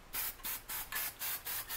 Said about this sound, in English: you can use aerosols and just spray it on top of the water